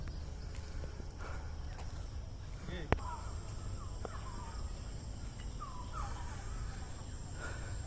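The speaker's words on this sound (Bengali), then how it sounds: "একটু পাখির ডাক ধারণ করব" Scattered bird calls, including crow-like caws, ring out at a middle distance in a national botanical garden, faint and intermittent over a steady outdoor hum, with one sharp click.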